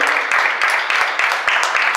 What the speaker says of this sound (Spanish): Denle un aplauso a Dios por lo que usted acaba de declarar.